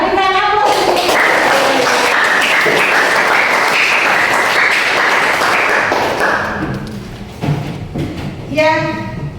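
A classroom of students applauding after a presentation, a loud burst of many hands clapping at close range that fades after a few seconds into scattered claps, with voices talking over it at the start and end.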